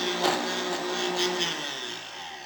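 A Vitamix blender whirs steadily at high speed through thick vegan ice cream made from two ingredients. The motor drone is loud and close and holds near constant for the length of the clip.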